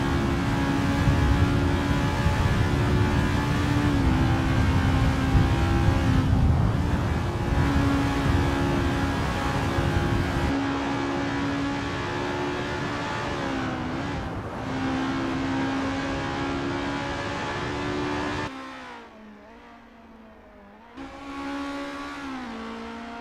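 Race car engines from a racing video game on a practice flying lap at Zandvoort, a loud continuous high-pitched engine whine with shifting revs, easing off and dipping briefly near the end before picking back up.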